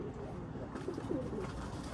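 White racing pigeons cooing in their loft, soft low coos repeating a few times close by over a steady ambient hum.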